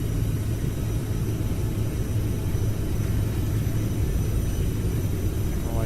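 CRJ regional jet engines at max takeoff power in a flight simulator, a steady loud low rumble with a constant roar holding throughout, no talk.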